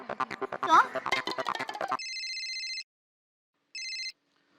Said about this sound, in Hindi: मैं अभी टप्पू के पापा को फोन करती हूँ।